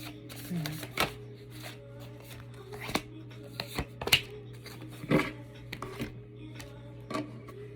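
A tarot deck being shuffled by hand, with irregular crisp riffles and soft slaps of cards close by, separated by brief quiet pauses.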